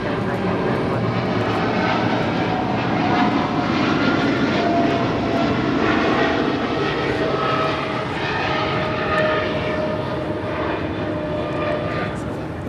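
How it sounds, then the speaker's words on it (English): A Boeing 777 freighter takes off from Los Angeles International Airport, its jet engines roaring loudly and steadily throughout with a broad, sustained rumble. "That was Cargo King 236 departing to Seattle on a 777 freighter."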